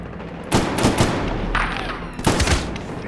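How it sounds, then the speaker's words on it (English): Gunfire in Medal of Honor: Warfighter, with two loud, sharp bursts of shots about two seconds apart over a steady background of battle noise. "Oh, someone's shooting me."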